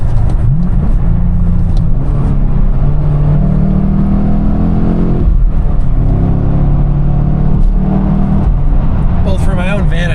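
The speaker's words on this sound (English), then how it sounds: "That was like a 3/4 throttle, just 3/4 RPM pull." Car engine pulling at about three-quarter throttle during a cold-start warm-up, a loud steady rumble that climbs in pitch across the pull and then settles, with a voice talking over it throughout.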